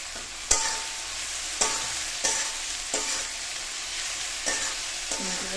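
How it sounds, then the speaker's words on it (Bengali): Onions and spices frying in a pan, a continuous sizzle broken by sharp scraping clacks as a spoon stirs roughly every half-second to second, close and clear with no talk. "পেঁয়াজগুলো হালকা ভাজিয়ে মশলাটা দিয়ে দেবো। কষিয়ে নেব।"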